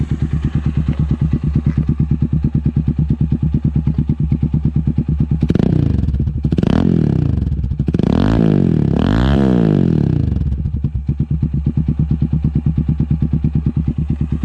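A Motorstar Z200 II motorcycle engine idles at a low, steady putter around 1000 RPM, with a few throttle blips that rise and fall in the middle before settling again.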